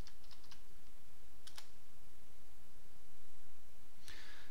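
Keystrokes on a computer keyboard while entering a PowerShell command, a handful of brief clicks in small bursts, faint beneath a steady hiss of background noise.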